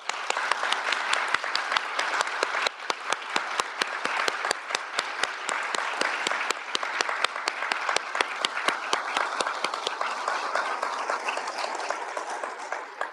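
An audience at a law school honors convocation claps in a dense, sustained round of applause, steady and fairly loud throughout, with no talk over it.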